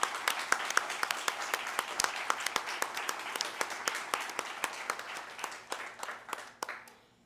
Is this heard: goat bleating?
no